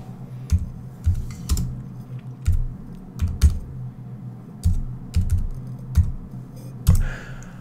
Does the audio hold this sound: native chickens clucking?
no